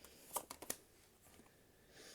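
A deck of playing cards is shuffled quietly, giving a quick cluster of riffling flutters in the first second. A faint hush of room noise follows.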